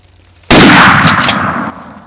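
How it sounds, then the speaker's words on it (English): A single loud, close shotgun blast fired while turkey hunting in Texas, a sudden sharp crack that rolls into a short booming decay and then stops. "Shoot in there, shoot in there."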